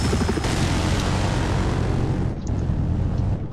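A Battlefield 4 helicopter roars close and loud as a dense, continuous rotor-and-engine drone that fills the whole stretch, easing slightly near the end.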